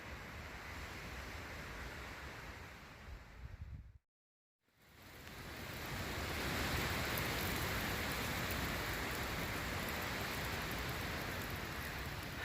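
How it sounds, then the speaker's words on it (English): Rain falls steadily on a mountain hiking trail at Waterrock Knob, a dense hiss that cuts out briefly and then returns fuller and louder, with no voices. "I do not recommend this in the rain."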